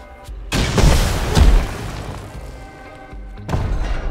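Rockets explode in the Rust survival game as two heavy, close booms. The first blast rolls on for about a second with a rumbling, crashing tail, and a second, shorter detonation follows a few seconds later.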